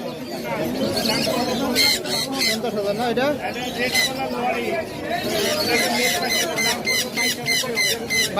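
Chirping and squawking of young sun conure and pineapple conure chicks at the Mirpur 1 bird market in Dhaka, busy and close, mixed with chattering voices and crowd talk throughout.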